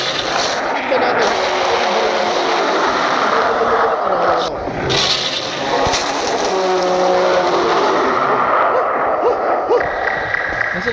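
Car driving in the Roblox video game, a steady racing-style engine roar with tire-squeal accents running the whole time while people talk over it.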